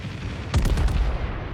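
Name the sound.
naval gunfire from the USS Missouri battleship in World of Warships video game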